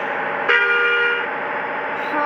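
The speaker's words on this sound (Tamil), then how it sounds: "ஹார்ன் பார்த்தீங்களா எப்படி இருக்குன்னு?" A bus horn in the video game Bus Simulator India gives one steady, blaring honk lasting under a second over a constant engine drone.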